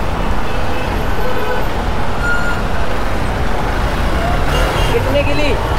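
Heavy road traffic on a busy roadway gives a loud, dense, continuous roar, with cars, trucks and buses passing close by and occasional horn toots rising above the din.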